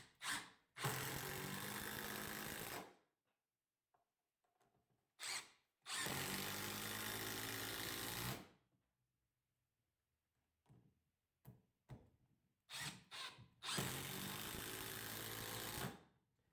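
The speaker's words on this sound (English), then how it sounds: "So I'm going to start off in mode 3 and just quickly drive some of these screws in." Power drill driving 3-inch wood screws in mode 3, three loud sustained whirring bursts of about two seconds each, separated by quiet pauses with a few short clicks and taps.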